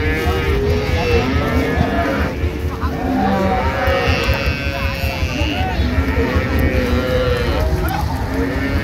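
Cows and calves at a rural cattle market in Dinajpur moo repeatedly, long drawn-out lowing calls from several animals, some near and some farther off, over a dense crowd murmur with people talking throughout.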